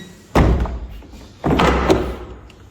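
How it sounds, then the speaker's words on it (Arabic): A traditional Arab wooden door, secured without iron fittings, is swung shut twice, each closing a heavy thud followed by a brief rattle, loud and close with no speech. "نوريكم البيبان العربي كيفاش يتسكروا"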